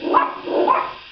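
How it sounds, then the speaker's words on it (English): Dogs bark indoors, three quick loud barks in a row, close and clear with nothing else heard. "Uh-oh, please excuse my dogs."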